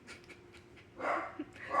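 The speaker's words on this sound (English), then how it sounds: "And Chico's a dog." A caged male dog pants and gives short whimpers up close in a brief, breathy burst.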